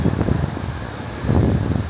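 Steady wind rushes and buffets against the microphone near Osaka Station, Japan, a continuous low roar that swells slightly toward the end, with no voices.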